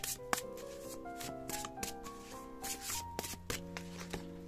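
Tarot cards are shuffled and cut by hand, giving quiet, close riffling and slapping flutters in quick irregular bursts, with soft tapping and sliding between them.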